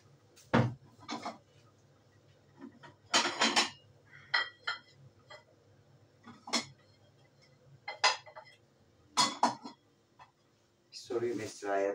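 A metal spoon clinks and taps against a bowl of Turkish sour meatball soup with barley vermicelli, in scattered bright knocks across a quiet kitchen, with a brief voice near the end.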